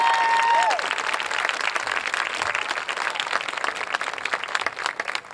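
A school spring music gala crowd applauds an indoor color guard with broad, sustained clapping and some cheering from a large audience filling the hall. A brief electronic tone sounds at the start.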